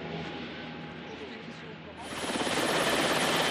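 Military helicopter flying over hostile south-western Mali terrain on an army mission, a loud steady rotor and engine roar that swells sharply halfway through as the aircraft comes closer.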